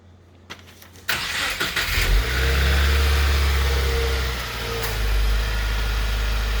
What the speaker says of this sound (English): So we're going to go ahead and we're going to start the car.